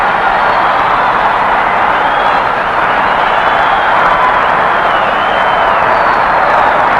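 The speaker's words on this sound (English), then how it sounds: "The huzzas of the crowd." Boxing arena crowd roaring after the bell ends the 12th round of a Sugar Ray Robinson versus Jake LaMotta fight, a dense, steady wash of cheering and clapping sustained throughout.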